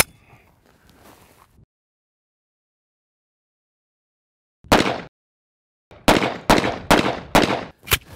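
A Double Barrel 1911 pistol fires once loudly after a quiet stretch, then unleashes a quick burst of about five sharp shots in close succession.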